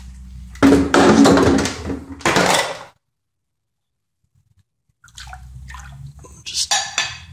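Water dripping and splashing off a Wilton 8-inch 1780 vise just lifted from an electrolysis bath, close and fairly loud in two bursts separated by a few seconds of silence.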